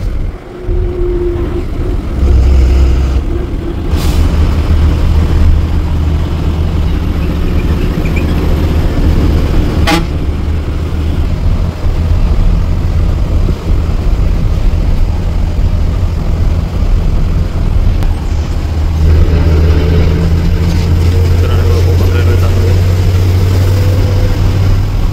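Vehicles pass at night on the Mumbai–Goa highway, a loud, steady engine roar with deep rumbles swelling and fading as heavy traffic goes by close at hand.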